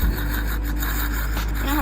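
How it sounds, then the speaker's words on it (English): A sanding band blends an acrylic false nail tip into the natural nail, giving a close, steady, scratchy rubbing sound that carries on continuously at an even level. "With the sanding bed, it easily just blend it in."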